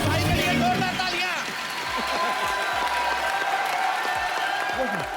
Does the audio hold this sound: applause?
yes